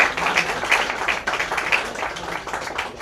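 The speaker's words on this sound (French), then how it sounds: "On peut applaudir." Audience applause during a French interview with a singer, a dense steady patter of clapping filling the moment without speech over it.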